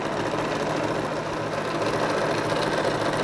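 A sewing machine running continuously while stitching a quilt storage bag, a steady close whirring hum with a fast mechanical rhythm throughout and no pauses.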